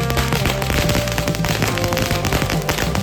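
An eco-friendly paper firecracker for Diwali bursts in a rapid, dense string of loud crackling pops that continues without a break, close and sharp.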